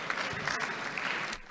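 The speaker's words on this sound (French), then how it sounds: "le député Les Républicains qui applaudit la ministre En Marche, Sophie Cluzel" A deputy clapping for the minister in the French National Assembly, dense applause from several hands filling the chamber and fading just at the end.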